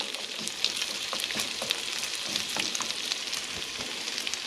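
Potatoes fry in a pan with a steady, close, hissing sizzle, broken by small irregular pops and the occasional stir, and no one speaks over it.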